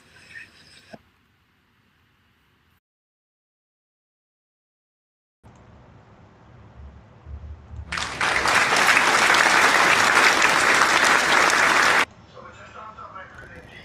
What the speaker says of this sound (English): So those were the virtual claps for Dr. Jiro Abe.